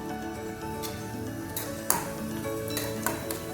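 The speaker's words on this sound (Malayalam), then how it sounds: "നട്ട്സ് ചെറുതായിട്ടൊന്ന് ഫ്രൈ ആയി വരുമ്പോൾ നമുക്ക് ബാക്കി റൈസിൻസ് ഇട്ട് കൊടുക്കാം." Nuts frying in ghee in a pan while making chicken biryani, a steady soft sizzle with scattered light ticks and a few sharper clinks, close and without talk.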